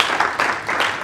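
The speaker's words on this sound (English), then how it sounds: "Let's give him a round of applause." A brief, dense wash of applause from an audience at a small tech meetup talk, a loud, steady hiss of many hands clapping together with no talk.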